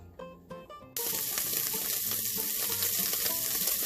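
Steady bubbling and hissing of a pot of mung beans at a rolling boil, preceded by a few short clinks.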